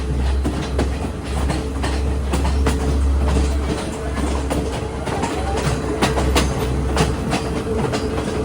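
Podi Menike Express climbing uphill through misty tea country, a steady loud rumble of carriages with continuous wheel clatter and rhythmic clicks on the rails, close and unbroken throughout.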